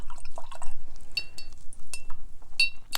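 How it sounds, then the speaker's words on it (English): A Princeton number 8 watercolor brush dipped and swished in a water container, giving close, small splashy drips and light glassy clinks scattered through the moment. "So I'm just going to start by getting some water on my Princeton number 8 brush."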